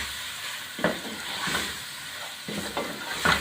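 Coriander powder and chili powder roast in a pan for a round gourd and mutton dish, with a continuous hissing fry broken by a few sharp scraping stir strokes, close and moderately loud.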